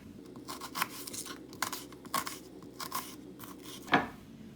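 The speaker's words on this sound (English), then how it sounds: "Then I'm going to cut the red onion same size." A knife chops red onion on a board in a series of soft, uneven cuts, quiet and close, with one sharper cut near the end and no talk.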